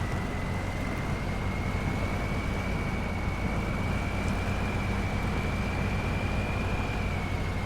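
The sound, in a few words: truck engine in Snowrunner video game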